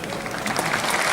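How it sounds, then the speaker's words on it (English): Convention audience at the Rotary International gathering in Sydney applauds, a dense, steady wash of many hands clapping at moderate distance with no voices. "Applaud yourselves for what you do."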